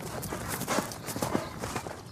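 Horse hooves clip-clop in a quick, uneven rhythm of dull thuds, fairly close, with a faint background wash and no speech.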